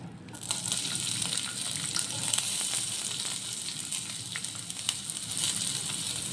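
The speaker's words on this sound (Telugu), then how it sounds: "ఆయిల్ హీట్ అయింది కదా, ఇప్పుడు ఇందులో కొంచెం ఆనియన్స్" Chopped onions hit hot oil in a kadai, producing a loud, dense, continuous sizzle and crackle close up that holds evenly throughout.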